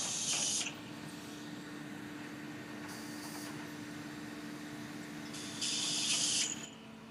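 Steam hissing from the hood over a rotary kiln's discharge auger as discharge material is rehydrated, a low steady mechanical hum with short bright hiss bursts at the start, middle and near the end.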